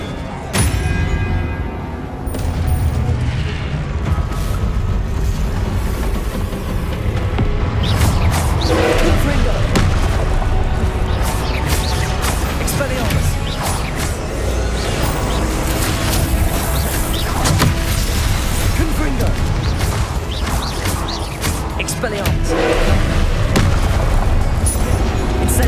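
Dense, continuous spell combat from Hogwarts Legacy, with booming Confringo blasts and thuds layered over one another, loud and close, while a voice calls out spell names throughout.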